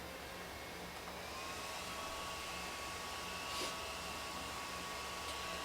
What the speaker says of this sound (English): we're just going to hit this with my fan for a minute here